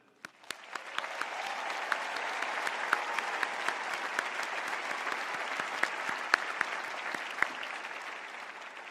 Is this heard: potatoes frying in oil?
no